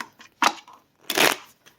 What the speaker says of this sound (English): I wanted to shuffle the deck while we're kind of on camera